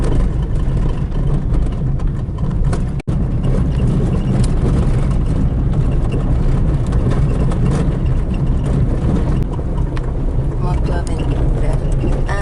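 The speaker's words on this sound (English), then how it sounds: "And then it's a bunch of motorcycle guys." Steady loud engine roar from a group of motorcycles passing together in the Andes, continuous throughout with a brief dropout, close and rumbling.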